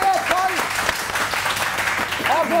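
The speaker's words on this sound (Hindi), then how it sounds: "तालियां बजाओ मेरा लिए" Studio audience applause on a morning TV show, a dense burst of clapping heard under continued talk from a presenter, with a whistle-like tone rising over it near the end.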